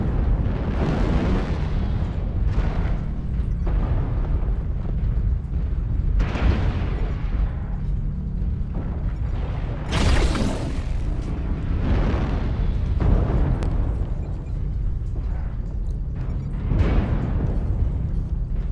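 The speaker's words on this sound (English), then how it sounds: "Airstrike online." Airstrike explosions in a mech combat video game: a loud, continuous barrage of booming blasts and rumbling bursts that swell and overlap for nearly twenty seconds, with heavier peaks every few seconds.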